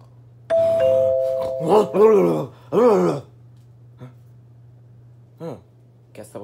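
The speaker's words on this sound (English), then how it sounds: "Guess that was just the doorbell." A doorbell sounds inside a house, a sustained electronic chime tone near the start, followed by people talking over and after it in a quiet room.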